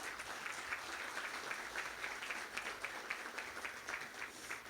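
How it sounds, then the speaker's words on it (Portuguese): Soft, steady applause from a church gathering welcoming a woman to the front, a quiet, even wash of clapping heard at a distance without voices. "queria que vocês, por mim, recebessem ela com uma salva de palmas"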